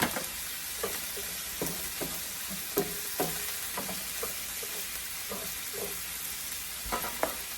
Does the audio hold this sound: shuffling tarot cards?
no